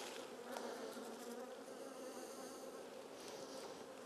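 A honeybee colony in an opened winter hive hums with a steady, faint, close buzz of many bees, continuous and without speech.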